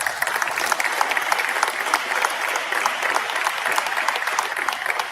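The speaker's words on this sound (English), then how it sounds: "If y'all would you give her a round of applause?" A crowd applauds steadily at a press event announcing a new high school head football coach, with dense, even clapping from many hands throughout.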